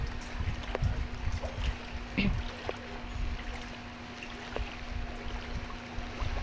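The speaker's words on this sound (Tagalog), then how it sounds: "Hirap talagang maglakad sa baha." Someone wades through flood water on a rainy day in Bocaue, Bulacan, Philippines, with steady nearby sloshing and splashing that carries on throughout over a constant wet background wash.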